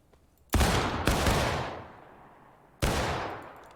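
Video game gunfire as players shoot into the air: three loud, close, sharp shots, two in quick succession and a third after a pause, each with a long decaying echo.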